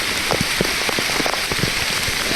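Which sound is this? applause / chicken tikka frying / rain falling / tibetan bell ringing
rain falling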